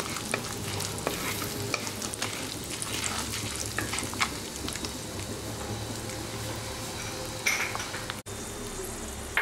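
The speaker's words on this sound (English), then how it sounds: "After frying these spices for 1 minute" Steady sizzling of spices, including cumin seeds, nutmeg and star anise, frying in a hot pan, with occasional stirring scrapes, continuous and close throughout.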